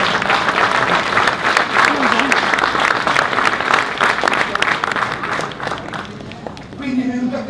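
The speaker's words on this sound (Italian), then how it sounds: "Io farei un piccolo applauso a Ernesto." Guests at a winery cellar grand opening give a warm round of applause, a full, steady patter of many hands that fades near the end as a voice cuts in.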